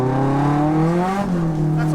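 A drift car's engine is held on throttle down the straight: a loud, steady, close-up drone that dips slightly in pitch midway and then carries on without lifting.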